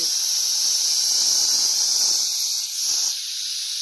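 A Chinese Brikka moka pot hisses with leftover steam pressure after the heat is turned off, a loud, steady, high-pitched hiss that fades slightly near the end.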